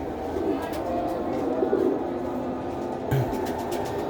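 Pigeons coo in soft, repeated low calls close by, over a steady background hum, with a brief louder sound near the end.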